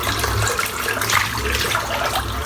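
Warm water running steadily from a tap for wetting shaving soap, a continuous close splashing rush with no talk.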